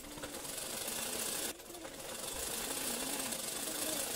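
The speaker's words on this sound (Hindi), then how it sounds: "अब हमारी कमर के साइड को हम फर्स्टली सिलाई लगा लेते हैं" A sewing machine runs steadily while stitching the waist side of a katori blouse, a continuous close mechanical whir with a brief dip partway through, and no talking.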